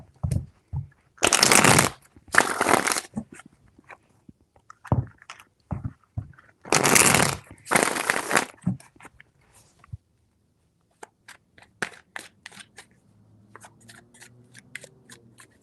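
Tarot cards being shuffled in several loud, dense bursts of riffling with short gaps between them, followed by quieter handling and light taps.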